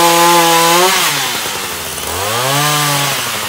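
Chainsaw revving as it cuts through wood outdoors, a loud, close engine whine that bogs down and rises again in pitch over a few seconds.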